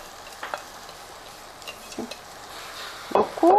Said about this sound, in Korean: 이때 양념장을 이렇게 여기다 이렇게 양념장으로 한번 볶아주세요